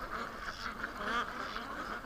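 Several ducks in a flock quack together in a constant, moderately faint stream of overlapping nasal calls.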